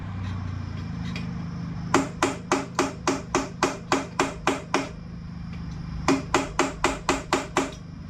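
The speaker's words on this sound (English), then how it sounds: "Give it a tap with a hammer to make sure it's seated correctly." Sharp metallic hammer taps seating a Suzuki RM250 clutch part ring out in two quick runs, about a dozen strikes then several more, close and evenly spaced over a low steady hum.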